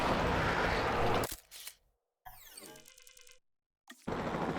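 Camera shutter snapping a photo in the game Jurassic World Evolution 2: a sharp click cuts off loud background noise, followed by whirring interface sweeps and a short tone before ambience returns.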